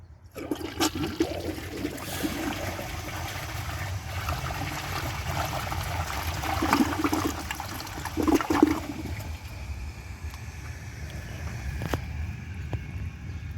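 A 1994 Standard Linear toilet flushes a washcloth, a steady rushing swirl of water with a couple of louder gurgling surges near the end as the bowl drains and refills, close and alone.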